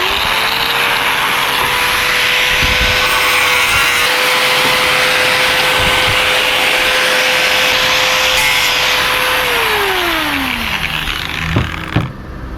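A power tool whines steadily as it cuts a motorcycle side kit part for an SZR kit on an NS200, holding one pitch for about ten seconds before winding down, then knocks of handling.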